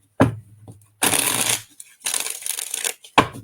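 Playing cards are shuffled in several bursts, each a crisp fluttering riffle, with brief quiet gaps between the three main runs.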